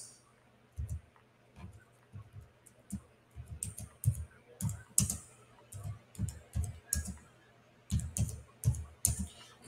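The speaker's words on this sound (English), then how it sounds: "I'm typing, y'all" Bursts of rapid typing on a PC keyboard, clacking keys in quick uneven runs separated by short pauses, close and clear over a quiet background.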